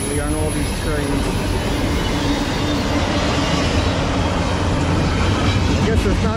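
A freight train of empty cars rolls past on the Lehigh Line, producing a loud, close, continuous rumble and rattle throughout, with a voice talking over the noise.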